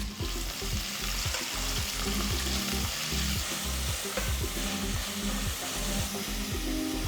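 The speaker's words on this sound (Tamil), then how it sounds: "வெங்காயத்தை 2 நிமிஷம் வதக்கி" Thinly sliced onions sautéing with spices in a pot for chicken pulao, a constant loud sizzle and fry with repeated scraping and stirring strokes throughout.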